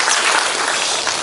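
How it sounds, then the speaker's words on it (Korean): A church congregation applauds during a year-end thanksgiving service, a dense, loud wash of clapping that holds steady for a brief moment. "우리 큰 박수로 하나님께 영광을 드리겠습니다"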